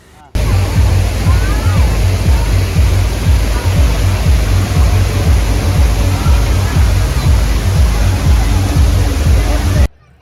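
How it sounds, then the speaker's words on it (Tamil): An artificial Niagara Falls replica waterfall thunders in a loud, continuous rushing roar close at hand, steady for about ten seconds before cutting off. "நயாகரா ஃபால்ஸா சாகல் தெரிக்குதுடா"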